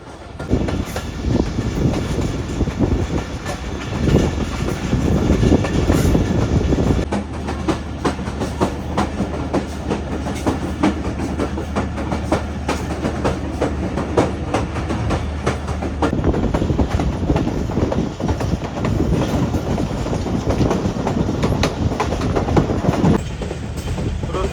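Bolan Mail passenger train, cut down to three coaches and a power van, runs on rails from Sehwan to Karachi: loud steady rumble with wheel clatter heard from on board throughout.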